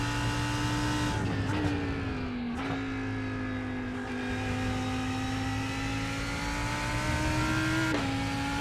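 A BMW M4 GT3 or Lamborghini Huracan GT3 Evo engine in iRacing screams at high revs, a steady whine with quick drops at gear shifts, loud and continuous with no talking.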